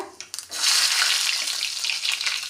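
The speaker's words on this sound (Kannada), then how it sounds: "ಸಾಸಿವೆ ಚಟಾಪಟ ಅಂದಮೇಲೆ ಸ್ವಲ್ಪ ಜೀರಿಗೆಯನ್ನು ಹಾಕಿರಿ" Mustard seeds spluttering and popping in hot oil for a tempering in a village-style rasam, a loud, dense crackling sizzle that starts after a few light knocks and carries on steadily throughout, with no talking.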